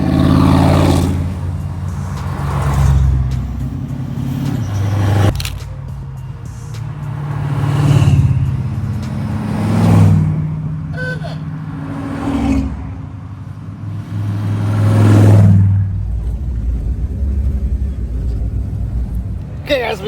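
Cars roll past one after another at a roadside spot on a drag cruise route. Each one brings a loud, rumbling engine swell that peaks and fades, with several distinct passes over steady background road noise.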